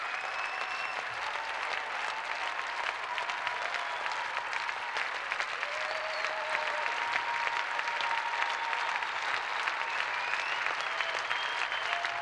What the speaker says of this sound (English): И ваши аплодисменты всем финалистам чемпионата мира.